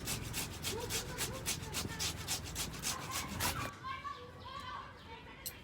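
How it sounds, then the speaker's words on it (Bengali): Potatoes are rubbed across a hand grater in a home kitchen in quick, rhythmic scraping strokes, fairly close and moderately loud, with someone speaking over the grating. "এবারে একইভাবে আলুগুলোকে ঘষে রেডি করে নেব"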